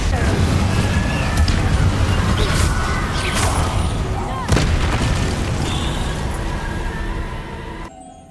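Spell-casting explosions in the Hogwarts Legacy video game: loud, dense booming blasts and crackles layered over one another, with a sharp burst midway, then fading to a quieter tail.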